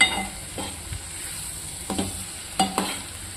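Sliced bitter gourd (boda kakarakaya) being stir-fried in a pan, a faint steady sizzle broken by a few sharp scrapes and clicks of the spatula, close by with no voices.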